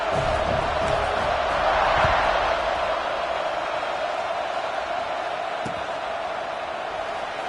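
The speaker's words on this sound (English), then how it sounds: "this crowd is buzzing after that last score" A stadium crowd in the NCAA 26 football video game buzzes in a steady, dense roar that swells briefly early on and then holds at a constant level.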